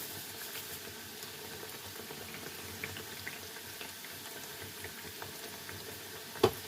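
Thattai vadai, Jaffna-style flat rice crackers, bubbling and frying in hot oil, a steady soft crackling seethe with small pops, one sharper crack near the end, heard alone without talk.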